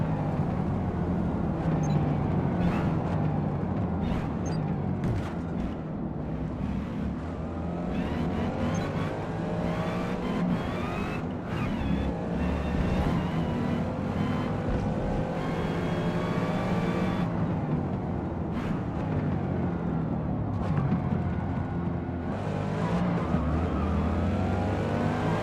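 A supercharged Ford Falcon racing car in a Gran Turismo or Forza driving game, its engine droning steadily and loudly throughout with rising and falling revs, shifting pitch and occasional gear changes.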